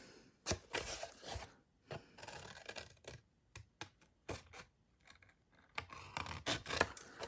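Scissors cutting across paper for a mini album cover, a series of short crisp snips and rustles in irregular bursts, close and fairly quiet, with no talking.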